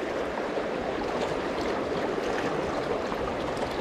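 Steady, close rush of fast-flowing water on the Beaverkill River in the Catskills, New York, a constant broadband churning with no pauses and no voices.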